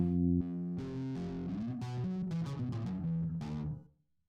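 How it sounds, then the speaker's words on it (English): A distortion-pedal-driven bass guitar off a pedal board that also holds whammy and delay pedals, playing a loud, sustained, gritty riff of several notes for about four seconds before cutting off. "I have a distortion pedal"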